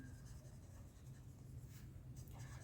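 Pen scratches steadily on paper while a math solution is written out by hand, a faint, close, continuous scratchy stroking with no talk.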